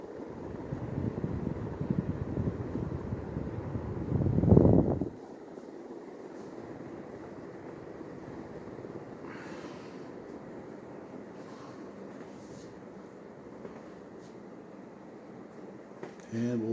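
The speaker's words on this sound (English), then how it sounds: "Runs pretty stable now since I balanced the blades on it" A NuTone Elegance ceiling fan with freshly balanced blades runs steadily, giving a low, even whir that holds throughout, with a louder burst of noise near the start before it settles.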